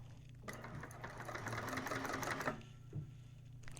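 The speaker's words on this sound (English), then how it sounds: "And I'm just going to chain stitch them all." Sewing machine chain stitching the seams of a drop-in bag lining, running quietly in a steady whirring burst of about two seconds, then a brief short run after a pause.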